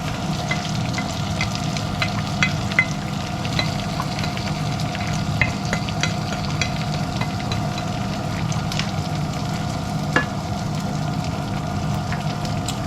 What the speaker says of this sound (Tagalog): Daming bawang kong nilagay.